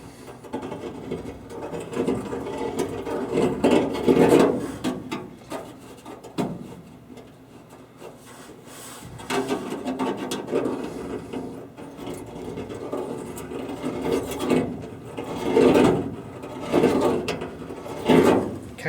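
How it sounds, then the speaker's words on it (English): A deburring tool scrapes and twists inside a hole in the aluminum fuselage of a Sonex kit aircraft under repair, giving repeated close scratchy, ratcheting bursts in uneven strokes with short pauses and no talking. "kind of using the deburring tool to oblong it a little bit in this direction and a little bit in that direction"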